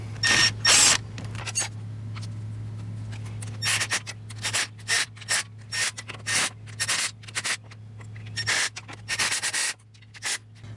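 Differential cover bolts on a Jeep Wrangler Dana 30 being tightened by hand, a series of short ratchet clicks and scrapes in quick bursts over a low steady hum.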